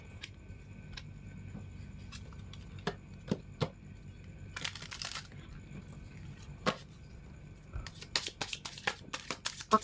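Oracle love cards are handled and shuffled for a reading, with scattered soft taps, flicks and short papery riffles close by, growing busier toward the end under a quiet background.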